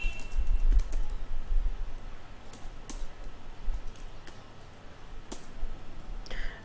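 Someone types on a computer keyboard while entering stock unit details into Tally accounting software. The keystrokes come as sparse, irregular clicks and short runs over a low background hum.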